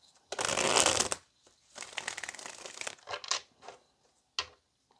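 Tarot cards being shuffled by hand, a long dense riffle up front followed by several shorter bursts of shuffling and a final quick snap near the end, close and fairly loud with no talking.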